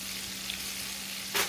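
Shrimp frying in a pan over medium heat give a steady, even sizzle throughout with a low constant hum beneath, and a brief louder crackle near the end.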